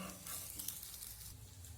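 Bread and semolina snacks frying in oil make a faint, continuous hissing sizzle with light stirring, heard briefly and alone.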